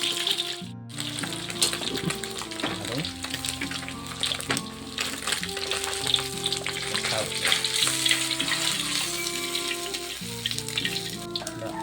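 Steady crackling sizzle of snakehead fish frying in hot oil, continuous and fairly loud throughout with no talking.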